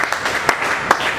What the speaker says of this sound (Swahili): Pigie Yesu tena makofi kwa sababu anakuja.